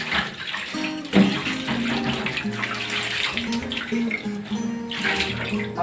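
Baby bottle parts rinsed under a running tap, with steady close splashing and gurgling water throughout, plus clatter of the parts being handled.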